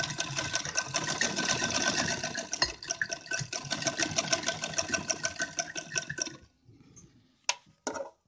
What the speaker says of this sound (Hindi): इस तरह से पूरा एंड तक हमें ये सिलाई चला देनी है